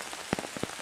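Steady rain patters on the ground during a hike along the Harzer Karstweg in the Harz near the Bauerngraben, with a few brief, closer drop impacts standing out from the soft outdoor wash.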